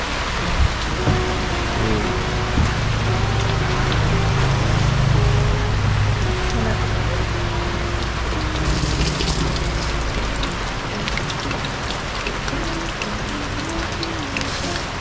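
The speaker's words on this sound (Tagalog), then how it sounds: "Umabot po kami ng ulan dito." Heavy rain pours down outdoors, a dense, constant hiss of drops striking surfaces that holds steady and loud throughout, with faint low rumbling beneath.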